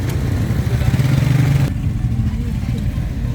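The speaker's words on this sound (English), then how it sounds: "there's motorbikes and there's Suzukis and there's vans and trucks" Steady street traffic in Kamrah, Attock, Pakistan rumbles along with motorbike engines passing and revving, a busy mix of motorbikes, Suzukis, vans and trucks at moderate distance, with talk faintly underneath.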